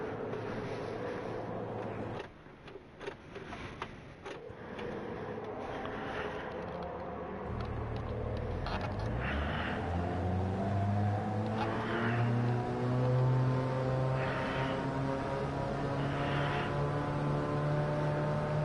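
A Toyota Prius race car in Gran Turismo 7 at WeatherTech Raceway hums at low speed, then its engine climbs through rising, revving gear pulls, steady and fairly close.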